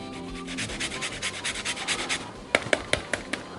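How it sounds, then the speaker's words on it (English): Fresh peeled ginger rubbed across a small kitchen grater, a close rhythmic rasping scrape in quick strokes, then a few sharp taps near the end. "Now I've peeled my ginger. I got a little grater here."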